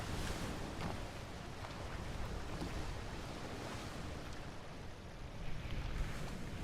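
Small boat out on the sea near the Obra Dinn in Return of the Obra Dinn, giving a steady broad wash of waves and wind that holds at a constant level throughout.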